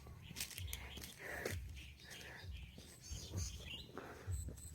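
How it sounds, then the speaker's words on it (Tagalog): Birds chirping outdoors on a sugarcane farm, light high tweets scattered over a soft low rumble and rustling, with a person speaking quietly in between. "Yan, naririnig kayo ang mga ibon po yan."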